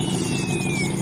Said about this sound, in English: we have showed you the starting and stopping of the engine